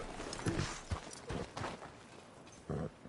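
Horse hooves clip-clopping at a walking pace in a video game, a rhythmic series of moderately loud hoof hits over a muffled background.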